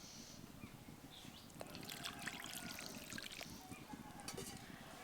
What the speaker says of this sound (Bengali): আমি আরও একটু পরিমাণ জল এর মধ্যে দিয়ে দেবো।